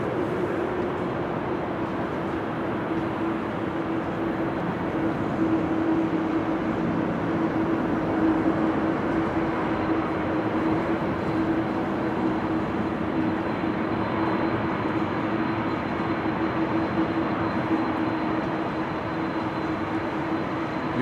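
An Air Canada Airbus A330 taxiing at Amsterdam Schiphol Airport in windy, showery weather gives a steady, continuous engine drone with a faint whine, holding at an even level throughout.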